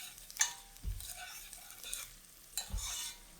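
Carrots cook in a pot on a stovetop burner for butternut squash soup, with a soft, low sizzle broken by a few stirring scrapes and light clinks, close and fairly quiet.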